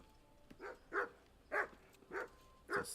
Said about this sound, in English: It's a skinny dog.